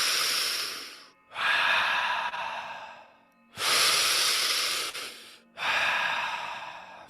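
Deep, forceful breathwork breaths, near and loud, alternating long rushing inhales and exhales in a steady cycle with brief gaps between them.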